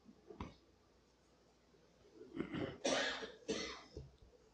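A quiet room with a soft cough, then a couple of harsh throat-clearing bursts close by.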